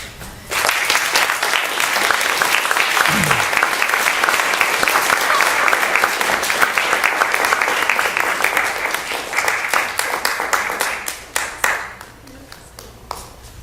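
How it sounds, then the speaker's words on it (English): An audience in a theater applauds steadily for about eleven seconds after a post-show talk, dense, loud clapping that fades out near the end, with a brief voice underneath. "I thought they were applauding what I just said."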